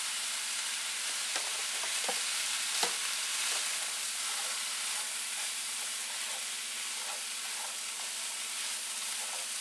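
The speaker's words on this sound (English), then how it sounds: "I've got 1 onion and 1 pepper that I'm going to saute with" Ground turkey sautéing with one onion and one pepper in a pan for a casserole. A steady broad sizzle hisses throughout, with a few faint stirring clicks, close and without speech.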